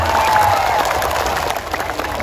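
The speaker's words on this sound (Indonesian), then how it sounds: "Semuanya tepuk tangan." A large outdoor rally crowd in Dadap, Juntinyuat, Indramayu breaks into dense, continuous clapping mixed with cheers, loud and sustained throughout, with a brief high whine early on.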